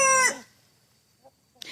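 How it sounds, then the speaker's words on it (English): A rooster crows on a homestead in the morning: one loud, close call with the tail of its crow at the start, followed by near silence and a faint stir at the end. "good morning, as my roosters are saying."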